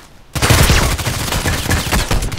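SKS carbine shots in Contract Wars begin abruptly and keep going in a dense, loud volley of rapid, overlapping gunfire heard close up, with no talking.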